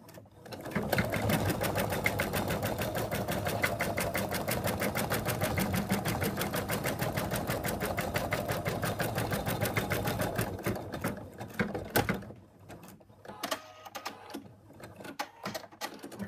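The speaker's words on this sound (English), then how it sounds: "So the machine now is going to go around with big stitches" An embroidery machine sews large basting stitches in the hoop of a zippered ladybug purse, a fast steady mechanical chatter for about ten seconds before it slows and stops, followed by a few scattered clicks and handling noises.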